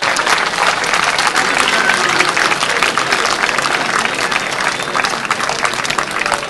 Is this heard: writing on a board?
no